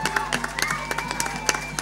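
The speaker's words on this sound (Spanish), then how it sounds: "un gran aplauso para nuestra amiga" A live audience applauds a performer at a concert album launch, with scattered, uneven claps and faint cheers over a steady background hum, moderately close and fairly sparse.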